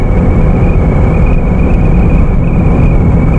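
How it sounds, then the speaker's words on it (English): A 1992 Honda Beat cruises at 60 mph, around 5,500 RPM, filling the cabin with a loud, steady engine drone and road roar. The noise is constant and close, with no talking. "it's noisy, don't get me wrong. We're doing 60 miles an hour at the moment."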